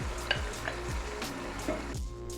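Chicken biryani masala with spiced yogurt frying in a pot, Karachi style: a loud, close sizzle broken by rhythmic stirring scrapes several times a second, with no talking.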